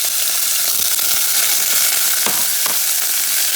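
Sofrito sizzling in a pot as the base for a chickpea stew with beef feet, a bright continuous crackling fry with a few soft stirring knocks, close and alone.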